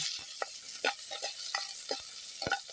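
Onion sautéing in a pan for a mussel soup, a soft continuous sizzle broken by quick, repeated scraping strokes of a spoon stirring it, close and fairly quiet.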